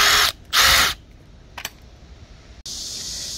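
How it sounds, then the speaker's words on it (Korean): Power drill boring out broken bolts on the turbo of an All New Kia Carnival, two short loud whirring bursts at close range, then quiet tool clicks and a final sustained high whine. "드릴을 뚫어서 이렇게 뺍니다"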